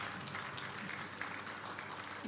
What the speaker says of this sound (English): she also deserves an applause